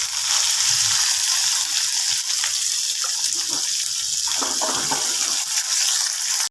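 Onion dropped into hot oil with cumin frying in a pan, giving a loud, steady, dense sizzle and hiss throughout with a few faint scrapes underneath.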